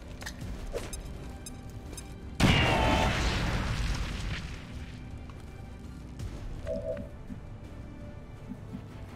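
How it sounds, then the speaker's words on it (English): A flame grenade goes off in XCOM 2: a single loud boom with a crackling, burning tail that fades over a few seconds. A quieter, faint blip follows. "throw the flame grenade at the frosty priest"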